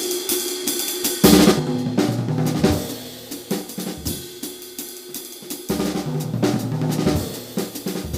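A drum set rolls double strokes around the toms and snare as fast 8th-note phrases, dense busy hits with cymbal wash, loud and close with no voices.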